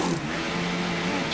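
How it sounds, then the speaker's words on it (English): Formula 1 car engine in the F1 2018 racing game at the Brazilian Grand Prix, revving hard with a loud, steady high-pitched whine that stays up close for the whole moment, with no voices over it. "He's revving like crazy."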